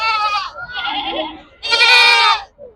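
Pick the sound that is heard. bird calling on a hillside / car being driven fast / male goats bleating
male goats bleating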